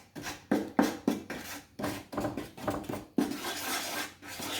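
A creamy sauce for honey walnut shrimp is whisked in a bowl: a run of close, rhythmic scraping and clinking strokes of utensil against dish, with a few short pauses and no talk.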